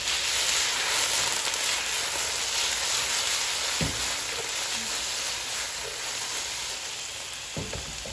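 Food frying in a wok, a loud continuous sizzle with a couple of faint knocks from stirring. No one speaks.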